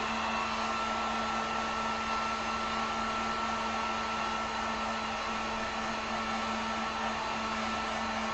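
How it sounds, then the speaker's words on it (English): Heat gun on low blowing over acrylic paint on a wooden sign, a steady, unbroken whirring rush of air with a constant motor whine, moderately loud and alone. "throw the heat gun on here"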